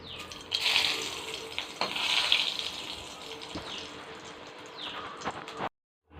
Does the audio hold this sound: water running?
yes